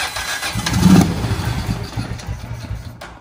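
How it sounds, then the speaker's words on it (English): An ATV engine that has sat unused cranks and catches, swelling to a loud rough run, then settling into a steady idle before fading near the end. "All right, now she'll run."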